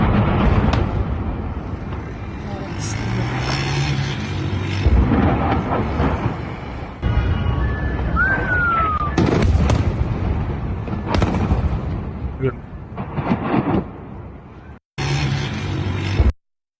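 Bombing explosions over Damascus, Syria, heard as a dense series of heavy booms and crackling blasts that go on almost without a break, loud and close, with faint voices in the background.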